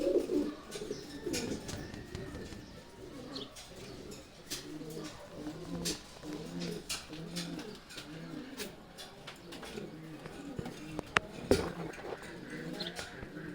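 Pet pigeons coo in a repeated rhythmic series of low, throaty calls, close and moderately quiet, with occasional sharp clicks and light rustling around them.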